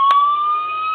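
A battery-powered siren on a diecast Ford Interceptor police model sounds a thin, steady electronic tone, close and loud, with a brief click at the start.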